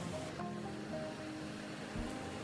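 Ocean surf rolling in at Maroochydore Beach on the Sunshine Coast, a steady, broad wash of breaking waves with no voices, with a faint hum in the background.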